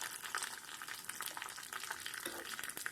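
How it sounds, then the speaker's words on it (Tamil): Cashews frying lightly in ghee for a milk-and-sugar halwa give off a steady, dense sizzle with occasional stirring scrapes, close and continuous with no talk. "அதில் கொஞ்சமாக முந்திரி போட்டிருக்கிறேன். இதை இப்போ நம்ம பொரிச்சு அந்த அல்வாவோடு சேர்த்துடலாம்."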